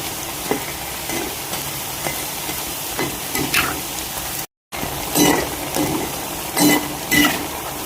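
Semolina (suji) rings deep-fry in hot oil with a dense, close sizzle. Occasional scrapes and clinks of stirring come through, and the sound breaks off for a moment midway.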